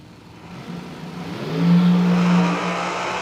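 A hot rod drag racing car roars down the track, its engine note climbing and growing louder as it passes, then holding a steady droning tone as it pulls away.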